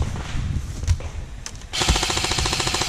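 Rapid airsoft gunfire during a bunker game, a steady stream of fast clicking shots taking over halfway through after a quieter stretch with a couple of isolated sharp pops, fairly close.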